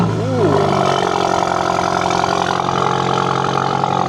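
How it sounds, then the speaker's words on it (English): A Volkswagen GTI Mark 8 cold-starts with a Miltec exhaust: a quick rev flare at the start settles into a steady, loud, droning high idle close by. "Now we're getting a cold start on the Mark 8."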